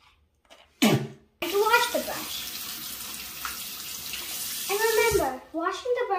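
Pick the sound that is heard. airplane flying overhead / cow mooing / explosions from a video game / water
water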